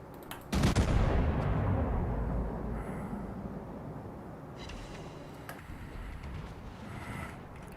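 Warship guns in World of Warships boom in a loud salvo, followed by a long rolling decay and scattered lighter shots; no talking during the firing.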